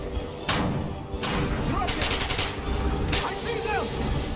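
Gunfire from the video game Metro: Last Light crackles in rapid bursts with thumps and booms, moderately loud, alongside game voices and effects.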